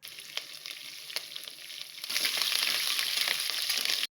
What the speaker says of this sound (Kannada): ಇದಿಷ್ಟನ್ನು ಹಾಕಿ ಚೆನ್ನಾಗಿ ಫ್ರೈ ಮಾಡ್ಕೊಳ್ಬೇಕು